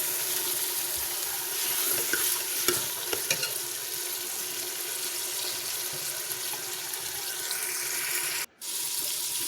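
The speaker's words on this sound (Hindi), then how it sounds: "इनको भून लेंगे।" Onions, tomatoes, garlic and green chillies frying and being stirred in a pan for a desi chicken karahi, a steady close sizzle with scraping stir sounds and brief clinks, no talking.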